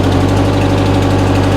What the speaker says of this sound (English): we are ready for the cold start